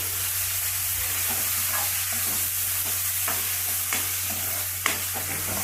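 Garam masala, turmeric and salt are stirred into a frying pan for green masala egg rice, with a continuous sizzle and a low steady hum under repeated soft scrapes of a spoon across the pan.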